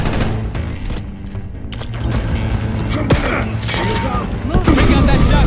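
Heavy gunfire in Call of Duty: Black Ops 6 gameplay, including shotgun blasts amid dense bursts of shots, booms and mechanical clatter, loud and continuous under shouted voices and game audio.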